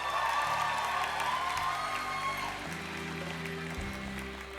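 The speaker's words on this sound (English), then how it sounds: "let's give everyone a big round of applause." Applause fills a senior high school graduation ceremony hall, a broad wash of crowd clapping and cheering heard from a distance under steady music.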